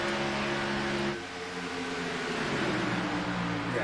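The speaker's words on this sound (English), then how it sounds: "That engine doesn't sound too healthy." A FARCA Premier race car at Las Vegas Motor Speedway runs rough with an engine that may be down a cylinder. It makes a loud, steady droning note that dips briefly around a second in, then climbs and holds again.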